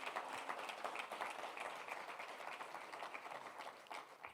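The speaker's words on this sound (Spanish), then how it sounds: "Denle un aplauso, aleluya." A church congregation claps in a sustained, fairly faint round of applause, a dense even patter heard from a distance, with no voices over it.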